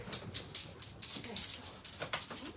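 A dog whimpers and whines in short, repeated high-pitched bursts at close range, with no talk over it, in a home craft workspace.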